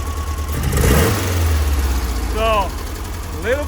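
A 1966 VW Split Bus with dual carburetors accelerates on a road test, its engine note rising with a slight hesitation and droning steadily from inside the cabin, while a voice talks briefly over it.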